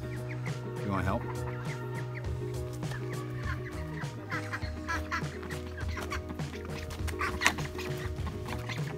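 A small flock of ducks quacks and chatters at close range, with soft, continuous overlapping calls over a steady low background hum.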